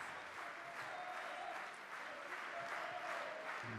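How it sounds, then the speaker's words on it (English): Basketball arena crowd at AS Monaco versus Pinar Karsiyaka in the Basketball Champions League applauding steadily, a dense, sustained wash of clapping heard from a distance, with faint commentary underneath. "There's the crowd on their fleet applauding, waiting for that first score"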